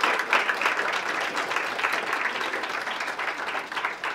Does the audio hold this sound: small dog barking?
no